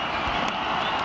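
A cricket crowd at an India versus Pakistan match in 2004 roars and cheers after a wicket, a brief wash of broad, loud crowd noise.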